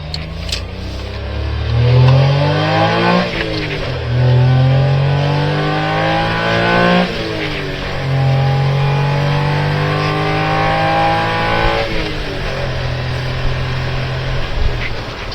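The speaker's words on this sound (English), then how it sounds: "you can rev the hell out of it without getting into trouble." A Honda Beat's small engine revs hard while driving, its pitch climbing repeatedly and dropping back at each gear change. The loud, buzzy engine note runs the whole time with no talking.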